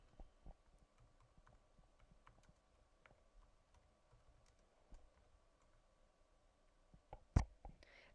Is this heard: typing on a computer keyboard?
yes